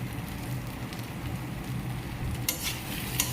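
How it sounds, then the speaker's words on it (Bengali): Potatoes fry with spices in a pan: a soft, continuous sizzle and stirring sound runs under a low steady hum, with a couple of sharper scrapes near the end and no voices. "মশলাটা দিয়ে ভালোভাবে ভেজে নিতে হবে"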